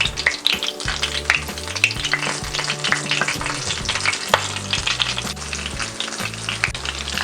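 Breaded potato nuggets coated in breadcrumbs and tapioca starch fry in hot oil, giving a steady, bright sizzle with crackling pops up close, while music plays faintly underneath.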